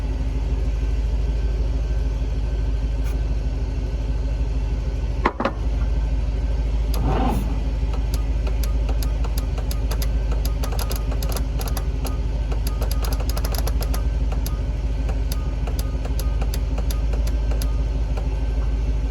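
An International B414 tractor with a seized engine cranks on a weak starter, making a long, steady, labored low drone with one sharp clunk partway through, loud and close, with no talking.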